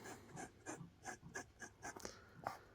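Montblanc Starwalker fountain pen with a 14k gold medium nib scratches softly across paper in about nine quick, evenly spaced strokes, faint and close up.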